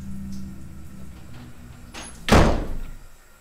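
A door in a home shuts with a single loud slam partway through, preceded by quiet room noise and a short fading rumble after the impact.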